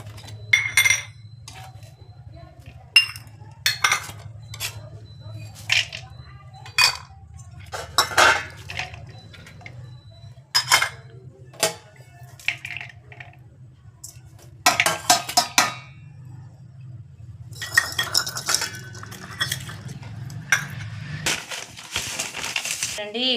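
Flour, curry leaves, coriander, peanuts and salt are stirred together in a bowl for a bottle gourd snack, with irregular clinks and scrapes of utensil against the vessel, spaced bursts over a low steady hum, brief voice in places.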